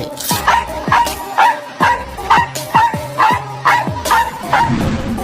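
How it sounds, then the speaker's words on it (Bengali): Two dogs in a confrontation, one barking repeatedly at the other: a steady series of loud, close yapping barks in regular bursts, with a brief whimper toward the end. "একটি কুকুর অপর একটি কুকুরকে রাগিয়ে তোলার চেষ্টা করে"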